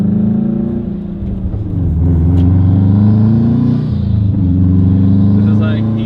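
A Subaru STI driven around a short loop after a wheel alignment, engine droning loud and close from inside the cabin, pitch rising and falling as it accelerates and eases off, with someone talking over it.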